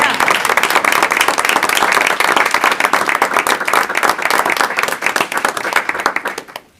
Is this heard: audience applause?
yes